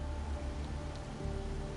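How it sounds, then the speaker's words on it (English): Steady, dense rain pouring in the Wuthering Waves video game, a continuous wash with a low rumble underneath and no voices. "it's the real Retroact rain."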